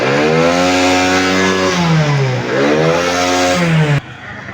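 A used motorcycle at an open-air secondhand bike market revs hard and close, its pitch climbing and dipping through several throttle blips before the engine cuts off abruptly near the end.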